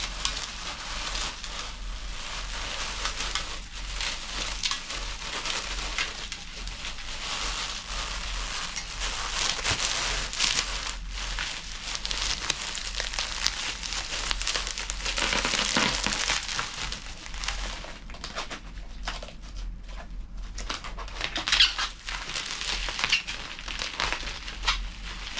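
A glass piece being wrapped in a light cushioning layer for shipping: continuous close crinkling and rustling of packing material, dense and steady throughout with occasional louder crumples.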